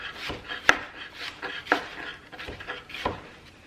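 Knife chopping cucumber on a board for crab ceviche, a handful of irregular, crisp thuds spread out with soft rubbing and scraping between them, close and fairly quiet.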